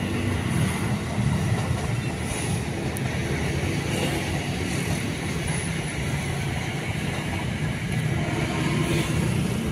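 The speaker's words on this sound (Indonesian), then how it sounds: "Tuh kereta tuh." A train rumbles past nearby, a steady loud roar with rolling low-end noise filling the whole stretch.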